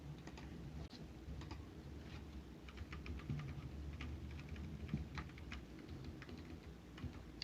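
Rapid computer keyboard typing during Word 2016 editing, with Shift and arrow keys pressed to adjust a selection: a steady stream of light, close clicks over a low room hum, no talk.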